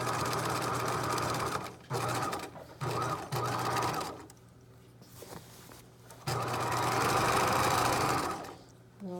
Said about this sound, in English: And we'll just stitch down the rest of the skirt here.